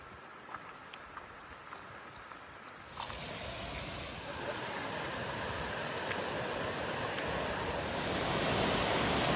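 Cummins Falls waterfall, heard from a high overlook, gives a broad, steady roar that opens faintly and then swells louder after a few seconds before holding constant, with a few light clicks near the start.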